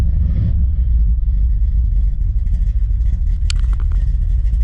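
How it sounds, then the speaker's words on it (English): A Chevrolet Impala with a carbureted 327 V8 and no choke runs just after starting, a loud, close, low rumbling idle that stays rough and steady throughout, with a brief sharp click late on. "that runs about as good as an old carbureted car without a choke"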